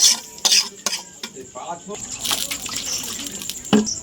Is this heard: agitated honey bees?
no